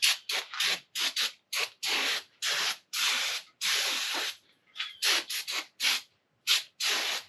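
Repeated bursts of a pressurized cleaner spray hiss loudly and close as brake dust is hosed off a caliper during a 4-inch drop suspension install, with short pauses between the blasts and no talking.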